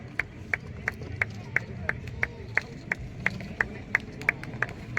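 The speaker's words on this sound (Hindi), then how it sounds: "तालियों से स्वागत किया जाए।" A crowd claps in steady unison to welcome a sanitation team at a railway premises cleanliness drive, with evenly paced claps about three per second over a low murmur of background voices.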